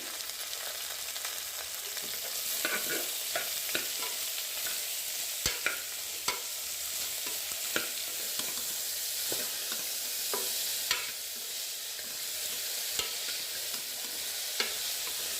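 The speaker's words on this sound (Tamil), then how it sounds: "இதோட மஞ்சள் பொடி, கல் உப்பு சேர்த்து நல்லா வதக்கி விடணும்" Radish sautéing with turmeric powder and rock salt, stirred in a pressure-cooker pan: continuous soft sizzle with intermittent sharp scrapes and taps of a spoon, close and steady, no voices.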